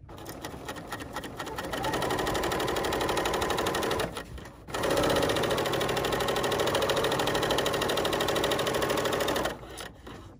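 A BERNINA L 890 sewing machine stitches black fabric pieces for a plaid project in two steady, loud runs of rapid mechanical whirring, split by a brief pause near the middle, with no talking.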